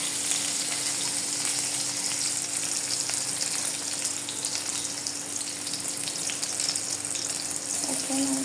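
Onions frying in oil in a karahi for Bangladeshi aloo vorta, a steady, close hiss and crackle of sizzling that runs continuously, with a faint hum underneath and a small clink near the end.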